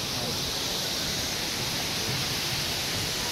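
Waterfall at Mijara Falls in Taiwan, a steady loud broadband rush of falling water that fills the whole moment without a break.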